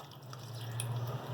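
Water splashes and trickles over goat liver being rinsed in a bowl, a soft close wet sound with small drips and a steady low hum underneath.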